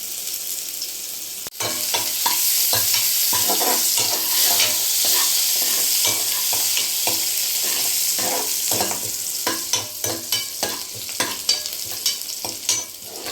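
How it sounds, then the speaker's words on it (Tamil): Chopped onions and green chillies sauté in a pan for vegetable noodles, a steady close sizzle with repeated scraping stirs that grow into sharper, spaced clicks toward the end; no talking. "பச்சை மிளகா பொடிசாக கட் பண்ணதை போட்டுக்கலாம் இப்போ இது நல்லா வதக்கலாம்"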